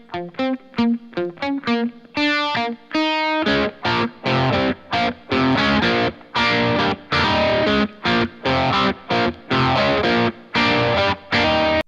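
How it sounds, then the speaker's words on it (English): Reamped electric guitar through the second channel of a St. James amplifier with distortion and phaser, a few clean plucked notes giving way to loud, chopped, sweeping distorted chords in a rhythmic pattern. "So we got our distortion and phaser there."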